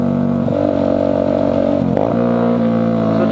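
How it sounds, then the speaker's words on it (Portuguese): A loud motorcycle engine revs up close on a rainy ride, a rough, throbbing roar that rises and dips, with a quick throttle blip midway. "Se passasse um louquinho com um barulho desse. Mas eu não tô de carro, eu tô de moto"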